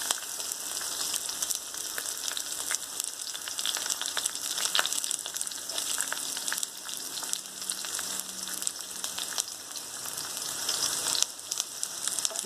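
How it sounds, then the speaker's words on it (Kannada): Onions fry in a pan with oil for a brinjal gojju, giving a continuous dense crackling sizzle that holds steady throughout, close and alone without talk. "ಈಗ ಈರುಳ್ಳಿನೂ ಬಾಡ್ತೀನಿ ಕೆಂಪುಗೊಂದು ಸ್ವಲ್ಪ."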